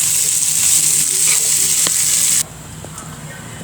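Beef tripe frying and braising in a pan for a potato curry: a loud, continuous sizzle with occasional stirring scrapes, dropping to a quieter hiss partway through.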